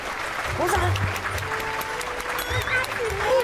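Wedding guests in a banquet hall clap steadily as a reception opens, a soft dense patter of many hands running under a host's amplified voice throughout.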